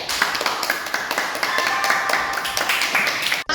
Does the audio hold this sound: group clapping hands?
yes